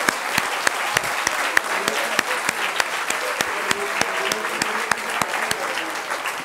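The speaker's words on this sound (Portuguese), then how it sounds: "Eu quero pedir uma salva de palmas para vocês." An audience at an international meeting against child labour bursts into sustained applause, dense steady clapping with some sharper individual claps, loud and close throughout.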